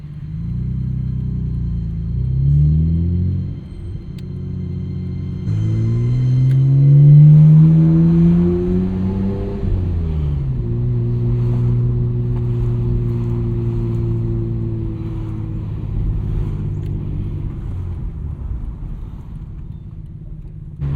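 A 1999 Nissan Skyline R34 GT-R with a twin-turbo engine drones steadily while driving, its engine note rising through a gear and settling into a steady cruise, with road and wind noise throughout.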